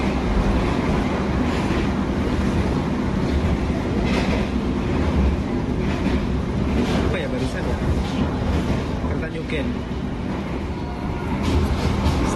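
The KA Parahyang train runs straight through Cikampek station without stopping, giving a continuous loud rolling rumble with rhythmic clickety-clack of wheels on rails and occasional voices underneath.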